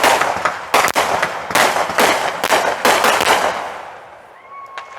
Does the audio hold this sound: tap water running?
no